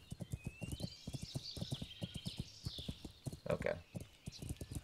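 A horse in Kingdom Come: Deliverance trots with a quick, even clip-clop of hooves, close and rhythmic, with a neigh partway through and faint wind behind.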